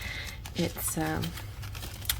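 Soft papery riffling and shuffling of a large, thin deck of cards close by, with a person speaking over the rustling.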